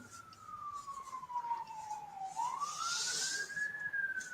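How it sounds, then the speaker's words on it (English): A wailing siren sweeps down in pitch and then rises again, steady and fairly distant over a noisy background. "Do you hear that wailing siren?"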